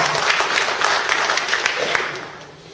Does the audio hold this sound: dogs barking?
no